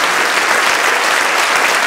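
Audience clapping at a twentieth-anniversary event in Verona, a dense, loud and steady burst of applause with no voices above it.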